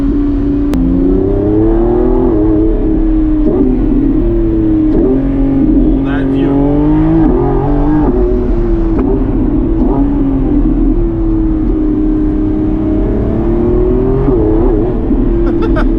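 A Lamborghini Revuelto's 6.5-liter V12 revs and drones loudly from inside the cabin, its pitch rising and falling as it accelerates, with a voice speaking briefly over it.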